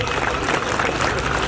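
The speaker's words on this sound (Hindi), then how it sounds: "तालियां बजाइए," Dense, steady applause from a crowd at a political speech in Hindi fills the whole stretch, loud and continuous with no clear voice on top.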